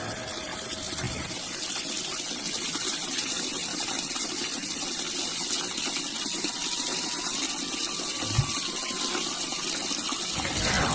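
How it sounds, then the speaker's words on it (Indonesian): Steady rushing water runs continuously like an open tap or bath filling, with a person bathing indoors; the flow is loud, even and unbroken under a faint high tone, with a brief knock near the end. "Lalu terdengar suara orang yang sedang mandi."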